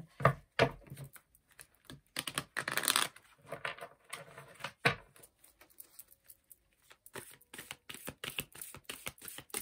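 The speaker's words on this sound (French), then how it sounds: "Je mélange mes cartes." Tarot cards are shuffled close up, giving quick irregular flurries of riffling and slapping with short pauses between them, soft and dry with no talk.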